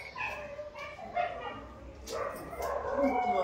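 A dog gives several close, high-pitched barks and yelps in quick succession, with faint background voices around it.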